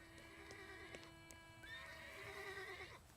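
A horse in the video game The Thaumaturge whinnies with a rising, shaky neigh, mixed with a few hoof clops, over a steady synthetic background hum.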